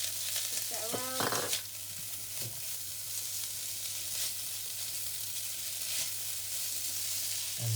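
Prawn fried rice with white pepper is stirred in a hot pan, a constant sizzle with a few scraping and tapping strokes of a utensil near the start, otherwise uninterrupted.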